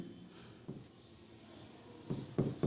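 Marker or chalk writing numbers on a classroom board, a few faint, brief strokes scattered at first, then a quick cluster of firmer scratches near the end, quiet and close.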